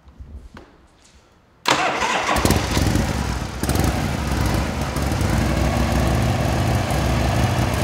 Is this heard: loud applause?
no